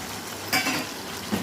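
Ginger, garlic and tomato puree masala with a splash of water is sautéed in a pan for chicken do peyaja, giving a soft, steady sizzle with a brief stirring scrape partway through.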